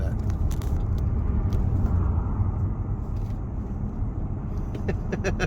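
BMW cars, including M6, 6 Series Cabrio and M4 models, roll past at a car club gathering, giving a steady, close engine and tire rumble with a few faint clicks and scrapes.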